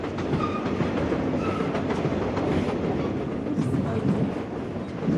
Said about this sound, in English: Let's get back on the train.